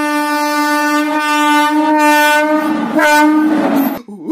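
A loud, sustained train horn blares close by in several long blasts, with rumbling rail noise underneath and a brief fade at the end.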